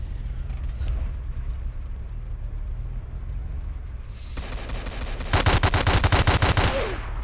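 Rapid gunfire in the Roblox game City of Vancouver: a burst of automatic-sounding shots starts partway through and stays loud and continuous to the end over a steady background hum.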